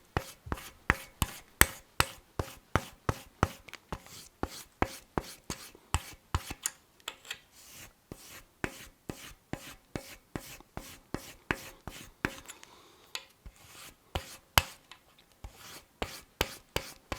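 A hand file scrapes back and forth along the edge of a broadhead blade to take off a burr, making rapid, rhythmic rasping strokes in a steady pattern with a brief pause partway, close and clear with no talking.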